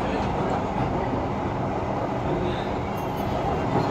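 Pune Metro train running into an underground tunnel, a steady loud rumbling roar of wheels and motion heard from inside the carriage throughout, with no speech.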